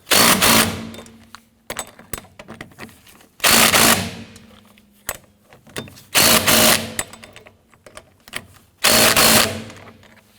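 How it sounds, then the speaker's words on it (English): Loud bursts of a power impact tool snugging down the rear wheel hub bolts on a 2017-2020 Hyundai Elantra during a wheel bearing and hub assembly replacement, four separate bursts at a steady pace, close up, with lighter clicks and clatter between them. "we're going to go ahead and snug down our hub bolts"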